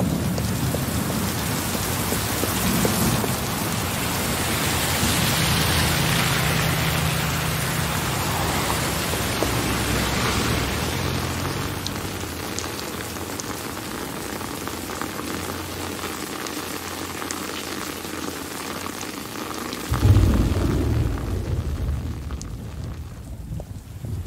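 Steady heavy rain pours down in a World of Warcraft Battle for Azeroth television ad, a loud continuous hiss of drops on surfaces with a low rumble, then a deeper thud near the end.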